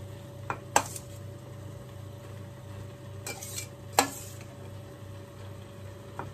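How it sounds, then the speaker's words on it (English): Drained noodles go into dry minced meat in a pan on turned-down heat, with soft stirring and a few sharp utensil clinks over a steady low background hum, without speech. "You just turn the heat down, and then I'm going to add the noodles."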